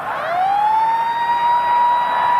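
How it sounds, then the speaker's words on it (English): A loud, sustained full-time siren sounds at a rugby union World Cup match between Australia and England at Concord Oval, Sydney, rising in pitch at the start and then holding a steady wailing tone throughout. "There's the siren."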